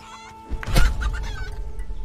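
Chicken in the prehistoric tribe survival game Polylithic clucking in a short burst, close and fairly loud against a rumbling, noisy game background.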